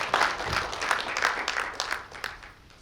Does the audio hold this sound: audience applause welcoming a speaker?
yes